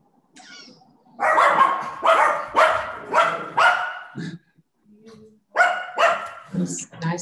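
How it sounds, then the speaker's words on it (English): A dog barks repeatedly in the background of an online video call or webinar, a series of loud, evenly spaced barks in two bursts with a short pause between them, with faint talk nearby. "Got somebody's dog is barking."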